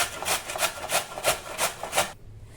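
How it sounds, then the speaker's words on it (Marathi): Raw green mangoes are rubbed across a hand grater in a steady back-and-forth rhythm, about seven rasping scrapes, close and clear, ending abruptly, with no one talking. "आता आपण ह्या किसणीवर किसून घेऊ."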